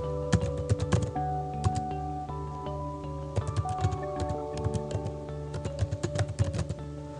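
Typing a web address on a computer keyboard, with quick clusters of close key clicks broken by short pauses, alone over a faint steady hum.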